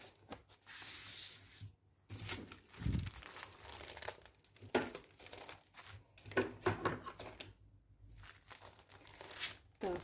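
Plastic packaging bags for a beaded embroidery kit are opened and handled, producing close, intermittent crinkling and crackling bursts separated by brief pauses.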